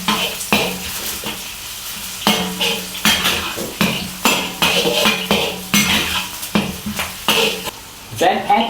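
Garlic and scallion stir-fry in a pan over low heat, with a loud sizzle broken by repeated rhythmic scrapes and clinks of a utensil against the pan, close and continuous.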